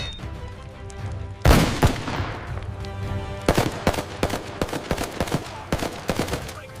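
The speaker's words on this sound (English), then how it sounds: "With 416 carbines, one with a 40mm launcher, and MK-48 machine guns" Bursts of machine gun and carbine fire, modern MK-48 machine guns and 416 carbines, open with a loud volley followed by a string of sharp, closely spaced shots and short rattling bursts, fairly near with echoing tails.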